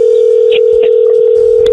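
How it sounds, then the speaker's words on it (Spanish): A steady telephone line tone hums loudly as a call connects on a Spanish-language radio show, with faint clicks and rustles over it and no voices. "ahí entró la llamada"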